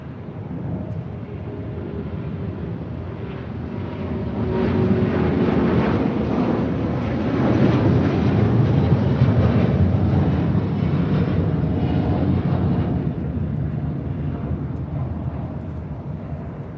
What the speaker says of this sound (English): This is LL Flight 6 taking off to Tel Aviv on a 787-9 Dreamliner.